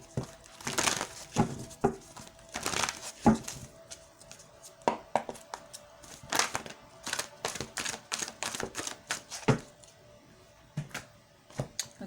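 A deck of tarot cards is shuffled and drawn from at close range, giving irregular bursts of crisp card flicks, riffles and soft taps separated by brief quiet gaps.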